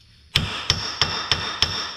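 Five sharp, ringing metal hammer blows on a tie rod end of a Segway UT10, knocking it loose from the front A-arm. The strikes are evenly spaced and close, and each one rings on briefly.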